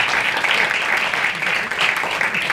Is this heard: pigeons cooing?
no